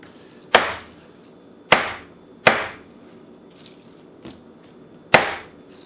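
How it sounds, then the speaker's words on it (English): Japanese chef knife chopping vegetables on a cutting board, four sharp, close chops at uneven intervals with a fainter tap between them and no talking. "you just cut the veggies like that"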